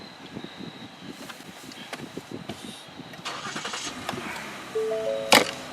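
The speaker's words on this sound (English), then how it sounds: "push the brake pedal down and give it a start" A 2016 Ford Edge Titanium AWD with the 3.5 Duratec engine starts up, with a series of cranking pulses before it catches and settles into a steady idle, followed by a short chime-like tone and a sharp click near the end.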